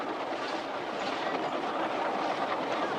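A passenger train rumbles along with a steady rolling roar of wheels on track, heard from inside the carriage at a constant moderate level with no talking.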